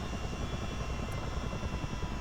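A Chinook CH-47 helicopter's rotor and turbine hum steadily with a dense, rhythmic chop as it shuts down in a flight video game, loud and continuous throughout.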